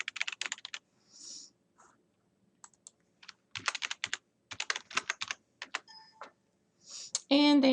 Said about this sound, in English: Then you will need to type in your password and log in.